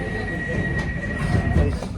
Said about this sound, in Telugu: ట్రైన్ స్టార్ట్ అయిపోయింది